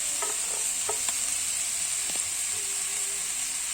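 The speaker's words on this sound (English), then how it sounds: "I'm going to start spooning the bacon in, and then let's drain some of that grease out." Bacon sizzles steadily in a frying pan while a spoon lifts strips out and drains off the grease, giving a constant close hiss broken by a few light scraping clicks.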